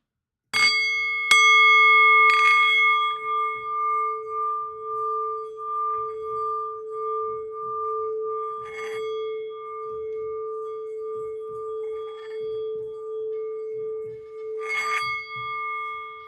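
A small bell rung during a spiritual reading gives a clear metallic strike that rings on in a long, steady, pure tone, with a few lighter taps adding brief shimmer over the sustained ring.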